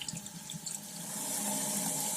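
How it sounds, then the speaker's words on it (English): Cold water runs steadily from a tap over a hatchery rainbow trout to rinse off loose scales, a close, continuous splashing hiss that swells slightly louder toward the end, with no talking. "Always rinse with cold water so that you don't damage the meat at all."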